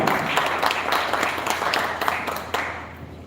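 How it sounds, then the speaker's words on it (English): Steady applause from a crowd at a live player auction, sustained and fairly loud throughout, with a low hum beneath and faint voices mixed in. "Let me have a huge round of applause."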